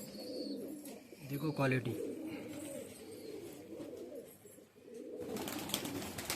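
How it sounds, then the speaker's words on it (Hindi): Pigeons cooing nearby, a few low throaty coos rising around the middle of the clip, layered over a steady din of other birds and background noise while someone talks. "ये देखो 23 परों का कबूतर है ये"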